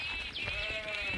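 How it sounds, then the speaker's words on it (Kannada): Sheep bleat in a village in Karnataka as a shepherd drives the flock out to graze, a steady, fairly close, tonal bleat running through the whole moment over low outdoor rumble. "ಕುರುಗಾರ ಕುರಿ ತಿರ್ಕೊಂಡು ಹೊಂಟಾರ ಮೆಸಾಕ"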